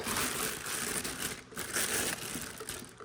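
Continuous plastic crinkling and rustling of a parts bag, close and fairly loud, filling the whole stretch with brief dips, no voices.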